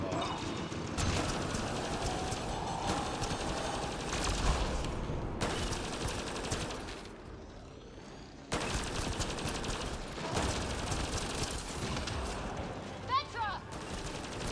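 Sustained automatic gunfire with cryo ammo in Mass Effect: Andromeda, long dense bursts broken by a short lull, with game effects and a voice speaking over the shooting.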